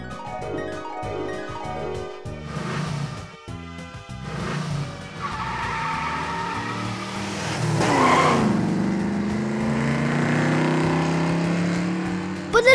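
A cartoon car accelerates away with tires squealing and skidding, a loud rising engine whine and long screeching slides accompanied by playful cartoon sound effects and music.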